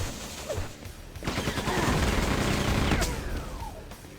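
A grenade blast blows a hole in a wall in Quake 2, a loud rumbling explosion with debris that swells, lingers for a few seconds, and is preceded by short sharp bursts of gunfire.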